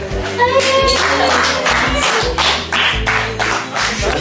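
A gathering of family and friends claps for arriving guests at a Rwandan ceremony, a dense, close, continuous round of hand claps with voices mixed in underneath.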